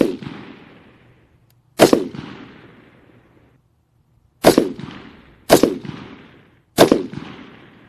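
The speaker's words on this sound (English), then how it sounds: "All right, Cleveland, let's go ahead and put down another 5-shot group" Rifle firing a five-shot group on a range during zeroing: five sharp, loud reports spaced unevenly over several seconds, each with a decaying echo tail, no talking.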